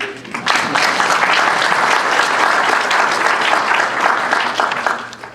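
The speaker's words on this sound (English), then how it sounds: "give a good round of applause for yourselves" Audience applause at a book launch, a dense steady clapping from a room full of people that swells in quickly, holds for several seconds and tapers off at the end.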